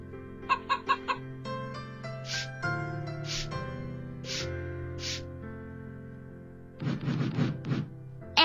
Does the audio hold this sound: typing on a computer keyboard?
no